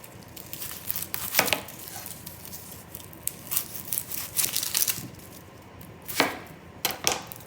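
A knife cuts and peels onions on a cutting board, giving irregular crisp chops and slices with papery crackles of skin being pulled off, close and fairly loud with no talking.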